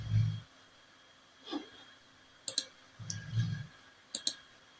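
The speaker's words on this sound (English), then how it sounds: "Simply click here, click on apply." Sharp mouse clicks in ArcGIS software while converting between raster and vector files, a few crisp clicks in pairs, spaced out between soft breathy noises, close and fairly loud against a quiet room.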